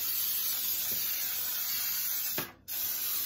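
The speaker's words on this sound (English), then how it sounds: "So I'm going to spray my pan on up here." A continuous aerosol cooking spray hisses steadily onto a baking pan for several seconds, briefly cutting out near the end before resuming, close and fairly loud.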